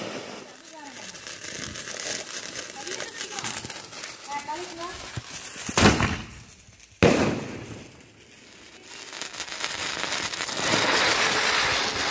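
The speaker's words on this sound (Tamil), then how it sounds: "நாங்கள் எல்லாமே இப்போ பட்டாசு வெடிக்க வந்துட்டோம்" Diwali firecrackers crack and pop at night in sharp bursts, one loud blast followed by crackling, with people chattering in the background.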